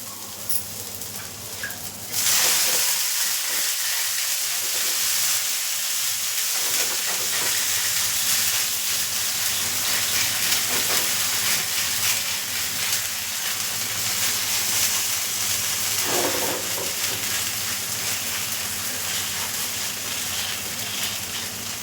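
Bajra-flour coriander dhapate flatbread frying on an oiled griddle, a steady loud hiss and sizzle that starts abruptly after a brief quiet moment and continues unbroken, close by, with no talk.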